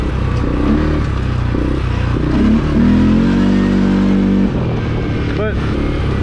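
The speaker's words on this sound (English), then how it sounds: "I'm flooring it wide open out of these turns." CFMOTO CForce 400 ATV with a 400cc engine and clutch kit held at wide-open throttle out of trail turns, a loud steady engine roar with rising revving tones and some clatter.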